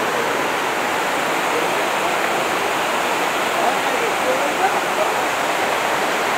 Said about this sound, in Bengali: এখানে লক্ষ্য করো ঝর্ণার জলের কি ভীষণ আওয়াজ